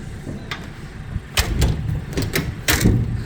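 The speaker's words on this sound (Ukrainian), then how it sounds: "Дверцята закриваються як в холодильнику." Several sharp thuds and clicks of a 2004 Mercedes Sprinter 311 van's rear doors shutting over a steady low rumble, spaced irregularly and fairly close.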